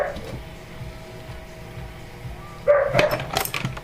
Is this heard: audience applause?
no